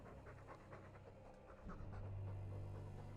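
Mabari war hound from the video game Dragon Age 2 panting heavily in steady rhythmic breaths, close and fairly loud, with a low rumbling drone rising beneath it partway through.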